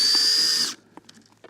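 Battery drill whirring loud and steady for under a second while mixing fishing bait at a match on a fishery, then cutting off to quiet background thumps and rustles.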